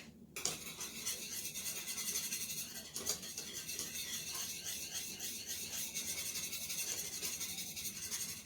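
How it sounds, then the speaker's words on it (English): Roast beef gravy being whisked in a pan as it comes to a boil, quiet continuous scratchy whisk strokes against the pan with a few faint clinks, close and without talk. "Give it a whisk."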